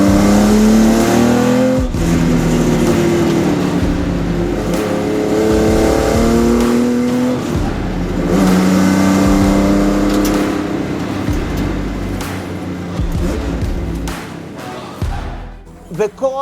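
Powerful small car on the road with its engine accelerating hard, revving up through gear changes in a loud, continuous drone. It is heard from close by and fades near the end.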